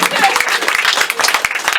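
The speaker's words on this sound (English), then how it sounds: "one more round of applause for Eve." A comedy club crowd at a Christmas standup show claps in a short burst of applause, close and lively, with a voice talking over the clapping.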